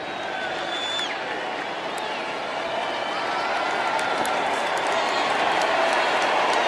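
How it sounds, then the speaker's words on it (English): Georgia fans at a Sugar Bowl college football game against Baylor give a sustained round of applause, a dense crowd clapping and murmuring steadily throughout, with a commentator's voice faint beneath. "Appreciative round of applause from the Georgia fans."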